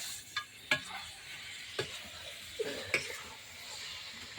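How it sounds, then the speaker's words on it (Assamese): Meat fries quietly in a wok, over a soft, constant sizzle broken by a few sharp clinks and scrapes as it is stirred. "মাংসখিনি ভাজি আছোঁ।"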